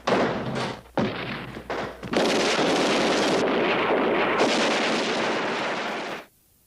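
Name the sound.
gunfire in police shootout with criminals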